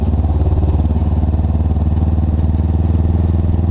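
A Suzuki GS500 cafe racer motorcycle's engine runs with a steady, close, throaty rumble and an even mechanical pulse throughout, with no voices.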